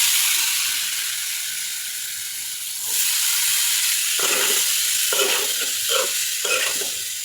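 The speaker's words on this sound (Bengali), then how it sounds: "তো দেখতেই পাচ্ছেন ভাজিটা উলট পালট করে ভালো করে কষিয়ে নিচ্ছি।" Vegetable bhaji frying in a pan: a loud, continuous, close sizzle and hiss, with repeated scraping stirs and tossing clatters growing busier toward the end, and no voices.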